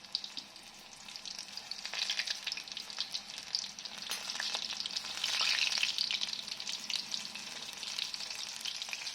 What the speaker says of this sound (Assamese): কিন্তু ভাজোতে সদায় হাই ফ্লেমতে ভাজিব।